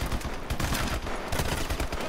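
Rapid gunfire in the video game Call of Duty: Advanced Warfare, a dense automatic burst of shots rattling continuously and loud with no voices.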